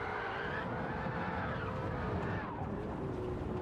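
A car in the racing game Gran Turismo 7 brakes hard with tyres skidding, a steady scrubbing roar over engine drone, moderately loud and with no voices.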